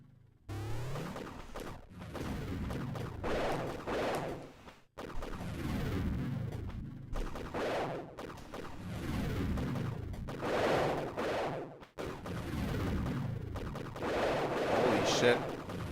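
Gunfire from a weapon in the Axiom Verge side-scrolling game: rapid bursts of synthetic shots and impacts, dense and steady across the scene with brief silent breaks between segments, mixed with game audio and no talking.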